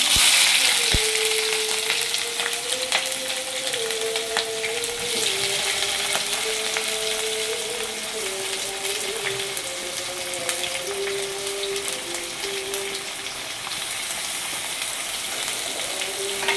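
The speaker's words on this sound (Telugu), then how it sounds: "ఇప్పుడు ఆనియన్ పచ్చిమిర్చి వేస్తున్నాను." Chopped onion and green chilli hit about three tablespoons of hot oil with mustard seeds and cumin, giving a loud, steady, close sizzle that runs unbroken throughout with no talking.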